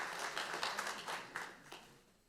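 An audience at a founding ceremony for a memorial society honoring an independence activist claps in a dense, fairly faint round of applause that tapers off toward the end.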